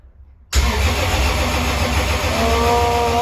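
A Toyota 2JZ engine fires up for the first time, a loud sudden catch after a brief faint crank, then settling into a steady rough idle close by.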